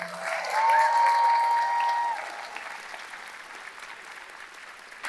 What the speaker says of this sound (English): Can we get another round of applause for the inaugural cello choir?